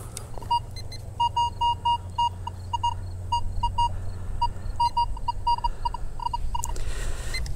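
A metal detector sweeps over a playground and gives repeated short, high electronic tones in irregular bursts above a low background rumble.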